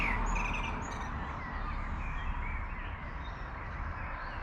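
Birds chirping and singing in garden trees, faint and high over a steady roar of traffic, distant and partly drowned out, with no talking.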